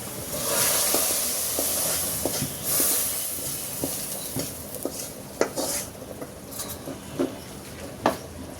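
Onions frying in oil for beef nehari, a steady sizzle and hiss with a spoon or spatula scraping and knocking against the pan in irregular clinks, close and alone.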